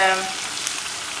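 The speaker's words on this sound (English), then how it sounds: "I'm doing something really dangerous by frying" Dense, steady sizzling of luqaimat dough frying in hot oil, close up, with a brief voice fading at the start.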